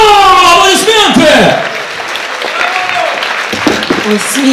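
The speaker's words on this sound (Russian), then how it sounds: "Аплодисменты!" Concert audience in St. Petersburg applauds at a comedy-poetry show, clapping breaking out after a voice and holding steady at moderate level, with speech over the start.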